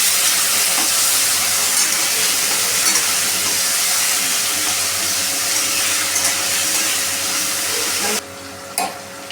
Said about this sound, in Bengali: এবার এতে আমরা দিয়ে দিচ্ছি আলু, দিয়ে এটাকে ভেজে নেব।